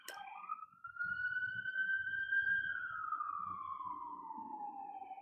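An ambulance siren passing outside during a Buddhist Hōonkō service at Higashi Honganji temple, a single loud sustained wail that rises, holds and then slides lower as it moves away, over a faint murmur of background noise.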